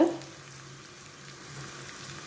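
Shallots frying in hot oil for a sardine curry, a soft steady sizzle after a brief clatter at the start, fairly quiet with a few small pops.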